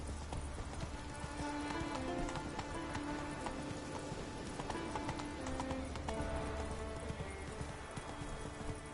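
Geralt's horse Roach in The Witcher 3, hooves clip-clopping in a steady rhythmic gait, close and continuous, with faint game music and ambience beneath.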